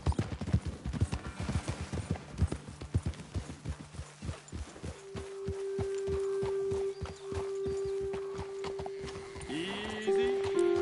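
Horse hooves clop in a steady rhythm as horses walk in Red Dead Redemption 2, then slow and fade while a sustained tone and a horse's snort come in.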